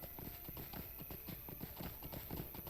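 Horses walking around the stables of Rivendell in the Lord of the Rings Online game, their hooves giving a steady, rapid clip-clop at a faint, distant level with no talk over it.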